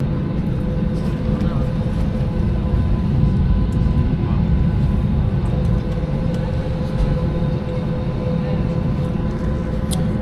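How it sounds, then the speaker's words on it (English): Airliner cabin in flight on the way to Lusaka, a loud steady engine and air roar with a constant low hum, unbroken throughout. "Yep, on the airplane,"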